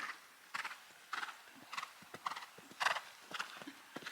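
Horse hooves clip-clop at a steady walking rhythm on an arena surface during a showjumping lesson, the regular footfalls close and moderately loud, with a brief whinny-like sound and no talk over them.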